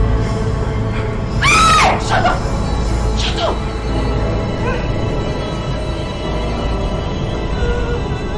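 Someone screaming in a sharp, rising-and-falling cry that rings out twice over a steady background rumble, moderately loud, with brief voices around it.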